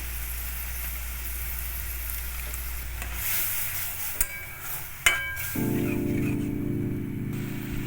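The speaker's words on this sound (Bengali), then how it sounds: "সেদ্ধ করা মুসুর ডালটা ফুটছে" Boiled masoor dal with turmeric simmering in a pot, a steady soft bubbling and sizzling hiss with a couple of sharp clicks, then a lower continuous rumble toward the end.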